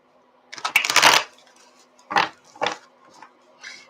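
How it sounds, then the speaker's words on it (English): Tarot cards being shuffled by hand up close, a long riffling burst followed by several shorter crisp flutters and slaps separated by quiet pauses. "Oop, too many cards. Let me shuffle."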